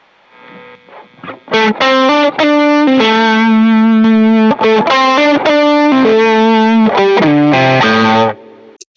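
Electric guitar played through a Klon overdrive pedal, sounding alone: loud, sustained overdriven chords and ringing notes held for several seconds with short breaks between them, ending abruptly.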